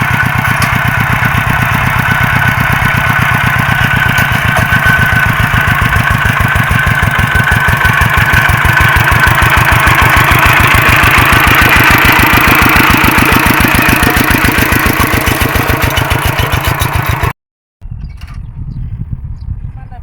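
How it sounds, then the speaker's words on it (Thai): A walking tractor engine chugs loudly and steadily at close range with a rapid knocking pulse while ploughing a field, then cuts off abruptly near the end as it runs out of fuel. "อันนี้เราใช้รถไถเดินตามนะคะ"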